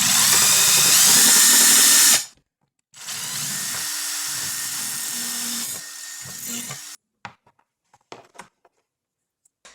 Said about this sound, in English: I'm just gonna drill into it